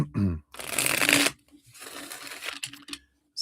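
Tarot cards are shuffled by hand in a few quick riffling bursts, a dense papery flutter up close, separated by short pauses, with a brief voice at the very start.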